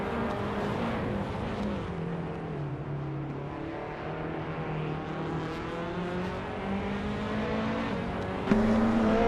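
Race car engines in a racing video game, including a 1996 Osella PA21 Honda, drone steadily with layered, shifting engine tones of several cars lapping together, loud and continuous throughout.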